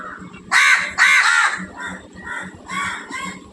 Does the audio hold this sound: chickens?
no